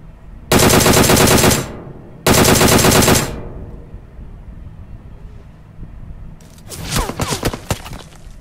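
Automatic gunfire in the mobile battle royale game PUBG Mobile: two loud sustained bursts close together, then a pause and a rattling, more uneven third burst.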